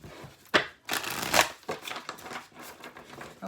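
Tarot cards shuffled close up, a rapid run of papery riffling and slapping clicks with no voices.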